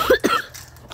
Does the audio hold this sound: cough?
yes